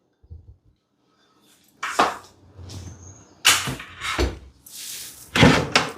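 Glass bowls clinking and knocking as they are moved about in a kitchen cupboard, several sharp bright clatters and a door-like thud spaced over a few seconds after a quiet start.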